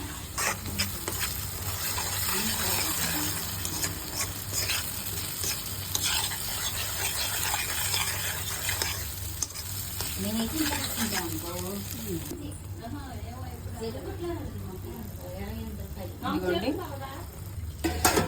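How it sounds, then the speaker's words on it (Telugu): Onions frying in oil with green paste just added, stirred steadily in the pan, a continuous sizzle with scraping; a person talks over it in the second half. "ఉల్లిపాయలు వేగిపోతున్నాయి. Green paste వేసేస్తున్నానండి."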